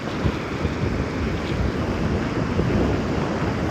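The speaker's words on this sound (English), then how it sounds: "Look, it's a massive sandy beach." Waves on a large, wide sandy beach, a steady close roar of surf mixed with heavy wind buffeting the microphone, no voices.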